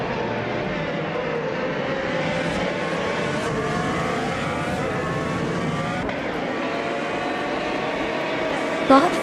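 Honda and Chevrolet IndyCar engines scream around a track in a racing video game, several high-pitched engines whining and shifting pitch continuously, with a brief sharp knock near the end.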